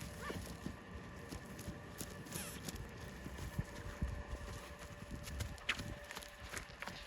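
Heavy draft horses, mares around 1000 kg, moving around an enclosure, their hooves clip-clopping in an irregular patter under steady wind and rustling outdoor noise.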